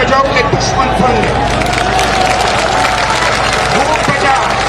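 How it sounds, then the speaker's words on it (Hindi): A large outdoor rally crowd in Multan claps loudly and continuously, a thick roar of hands mixed with cheering and crowd babble that stays strong throughout. "अब इतनी ताली बजाओ कि दुश्मन सुन ले।"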